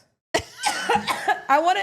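A few quick coughs come close together, mixed with a voice in a quiet room.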